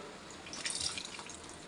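Tamarind water poured into a pot of simmering oil-eggplant curry (ennai kathirikai kuzhambu), a short, faint liquid trickle and drip that rises briefly mid-clip over a soft background hiss.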